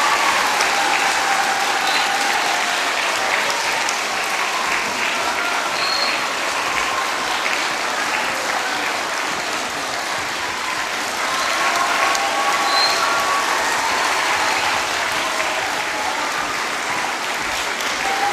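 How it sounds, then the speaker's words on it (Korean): Audience applause at a children's song festival, sustained loud clapping from a large crowd that keeps going evenly for the whole stretch, swelling slightly near the end. "박수를 계속 쳐주셔야지 우리 솔리스트가 한 번 더 나와요."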